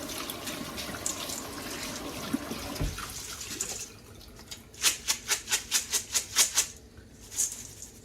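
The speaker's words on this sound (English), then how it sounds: "So I will rinse these and then pour it into the pot." Pinto beans rinsed under a running kitchen tap, a steady broadband water rush for about four seconds, then a quieter stretch broken by a rapid series of sharp rhythmic splashing or rattling bursts.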